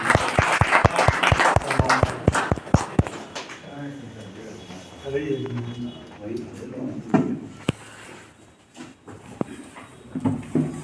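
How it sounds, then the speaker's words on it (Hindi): An audience at a Vikasika Diwas 2024 event claps in a loud, quick burst of rhythmic applause for a few seconds, then it fades as a voice speaks over scattered claps. "एक बार जोरदार ताली।"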